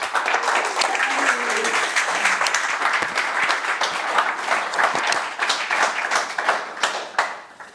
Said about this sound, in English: So let's have a round of applause for Craig.